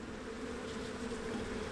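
Honeybees buzzing in a hive during a December bee yard inspection, a faint, steady, even drone with no talking.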